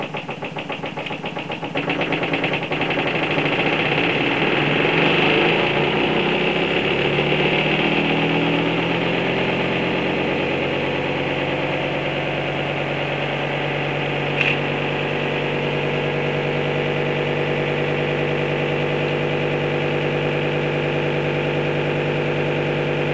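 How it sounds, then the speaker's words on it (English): A Muller generator starts and then runs steadily, its loud mechanical drone settling into a strong even hum with layered harmonic tones, heard alone and close for over twenty seconds. "Now I'm going to start the generator"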